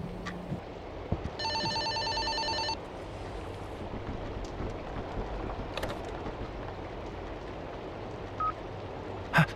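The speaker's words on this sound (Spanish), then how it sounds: "Suena el teléfono" Old telephone ringing in the horror video game Fobia: St. Dinfna Hotel, one clear ring burst standing out over a dim, murky ambient background with scattered faint knocks.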